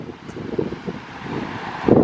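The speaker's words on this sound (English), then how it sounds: "It's a windy day" Gusty wind buffets the microphone with low rumbling bursts, rising and falling throughout and swelling loudest near the end.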